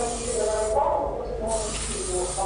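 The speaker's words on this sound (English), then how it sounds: "if you want to spray in more hairspray," Hairspray sprays onto hair from underneath in a few close, sustained hissing bursts, with a soft voice behind them.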